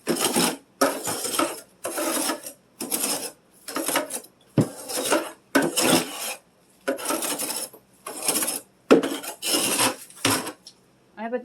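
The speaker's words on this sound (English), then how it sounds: "I want to remove a lot of ice from this shelf. I'm just going to scrape a little bit off." Ice is scraped off a freezer shelf in a series of about ten rasping, scratchy strokes, close and distinct, each separated by a brief pause.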